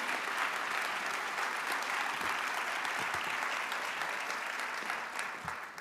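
An audience applauds to welcome Rutgers University's 21st president at a stakeholder address, a steady, full sustained clapping that tapers off slightly at the end.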